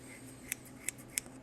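Abrasive scissors snipping a small piece of 4/0 steel wool in a workshop, three crisp metallic snips at a steady pace, close and clear against a quiet background.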